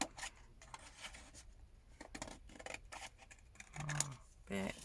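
Scissors snip around a piece of paper for a junk journal envelope, several irregular cuts close by, with talk over parts of it.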